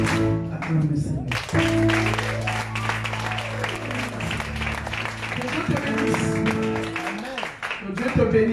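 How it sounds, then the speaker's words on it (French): A church congregation claps hands and stamps feet together in a steady, lively beat, a dense crowd sound that fills the room beneath sustained music and a singing voice throughout. "Tape tes pieds, tape tes pieds, tape tes mains."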